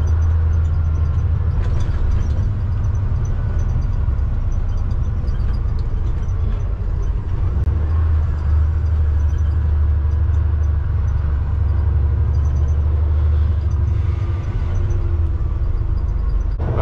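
A truck drives steadily toward an offsite lot to collect an empty trailer, its continuous low engine drone and road rumble loud and unbroken throughout, with no talking.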